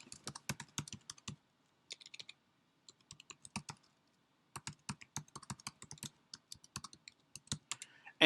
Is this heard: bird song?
no